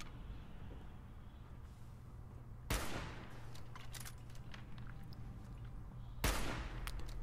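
Gunfire in Fallout 4 while shooting ghouls: two sharp, loud bursts about three and a half seconds apart over a steady low game background hum.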